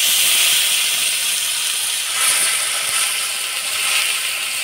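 Ground spice paste sizzling in hot oil with browned onion and black cumin, a loud, continuous bright hiss close up that swells slightly, with no talk.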